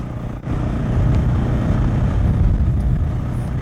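A 2021 KTM 690 SMC R single-cylinder motorcycle engine chugging at low revs in sixth gear, a loud, close, steady pulsing thrum with a slight dip near the start.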